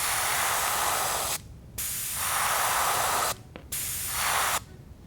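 An airbrush sprays paint in a basic perch pattern, giving three sustained bursts of steady hiss separated by short pauses, close and fairly quiet.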